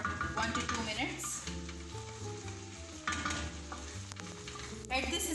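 Chicken karahi stirred and cooking in a pan, a steady broadband sizzle with utensil scrapes and stirring throughout, close and moderately loud.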